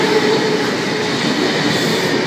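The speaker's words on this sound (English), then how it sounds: "we also have a V set about to pass, platform number 2, Newcastle service" A Sydney Trains V set, a double-deck intercity electric on a Newcastle service, rolls past at a station platform, a steady close rumble of wheels and motors with a faint squeal, no voices.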